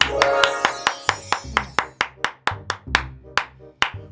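Sharp, separate hand claps open a Thai talk show. Around ten crisp claps land in a fairly regular rhythm, close and distinct, over a low background tone.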